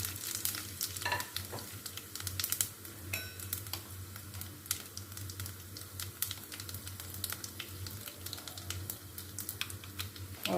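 Carom seeds, cumin, black peppercorns and cloves crackle and sizzle in hot oil, with steady popping and spitting over a low hum, no talking.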